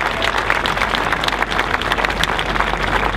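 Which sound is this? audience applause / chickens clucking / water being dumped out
audience applause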